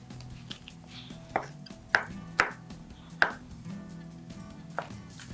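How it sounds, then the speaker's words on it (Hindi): Garlic crushed with a kitchen knife on a board while cooking aloo palak, several sharp separate thuds and cracks at uneven intervals over a low steady background hum, close and clear. "अब मैं इसको मजीद क्रश कर लेती हूँ अपनी नाइफ से"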